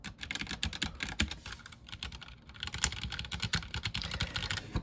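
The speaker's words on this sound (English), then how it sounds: "I want you guys to listen to the difference between the WASD keys and the arrow keys." Fingers type fast on a mechanical keyboard with Cherry MX Black switches, working the WASD and arrow keys. Dense, close clacks and rattles come in quick bursts with no voices.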